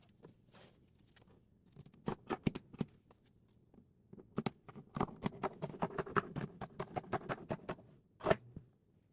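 Scissors snip through fabric for a hoodie waistband, with sparse single snips at first and then a fast run of crisp regular cuts, close and quiet against a silent background.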